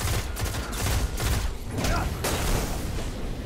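A dense volley of gunfire in the video game Destiny during a 6v6 match fills the moment continuously, loud and close, with no clear pauses between shots.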